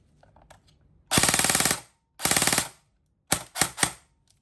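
A desert-tan E&C HK416A5 electric airsoft BB gun firing full auto: two sustained rapid buzzing bursts, then three short sharp bursts, loud and close, with quiet gaps between.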